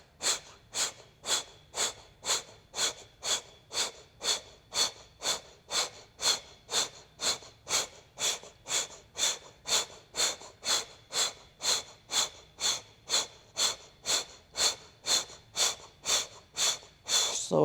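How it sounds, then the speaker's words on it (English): A person makes short, forceful exhales through pursed lips in a fast, even rhythm, about two sharp puffs per second, close and clear for the whole stretch with no talking. "short, forceful exhales out through pursed lips"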